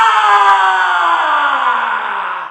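A person imitates a lion's roar with one long, loud, sustained growling cry that slowly falls in pitch and fades slightly at the end.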